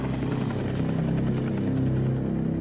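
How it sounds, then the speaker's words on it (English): A helicopter circles overhead with a loud, steady rotor drone and low rhythmic thumping pulses that continue evenly throughout. "The helicopter circles for 20 minutes, then disappears as suddenly as it arrived."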